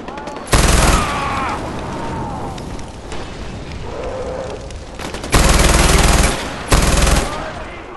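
Loud machine gun fire in the game Far Cry 4, heavy continuous bursts up close in several long volleys, with roaring explosions and game noise filling the gaps.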